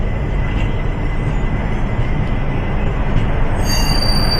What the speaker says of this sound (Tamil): கோயம்புத்தூர் பாண்டம் வண்டி பிளாட்ஃபார்ம் விட்டு வெளியே வந்துடுச்சுங்க.